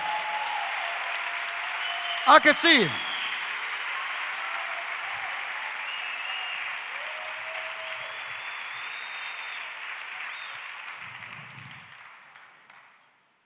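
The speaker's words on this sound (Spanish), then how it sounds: "Si ese aplauso es para Dios," A church congregation breaks into sustained, even applause during a sermon that fades out toward the end, with a brief spoken question near the start.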